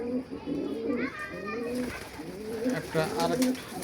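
High-flyer pigeons coo in soft, repeated rolling calls close by, while a person talks over them.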